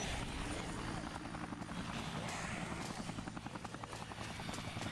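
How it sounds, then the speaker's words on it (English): A special forces helicopter in the Dead Rising video game thunders nearby, its rotor chopping out a fast, steady pulse with a loud engine whine layered over it, heard alone without talk. "Oh, that's a special forces helicopter, isn't it?"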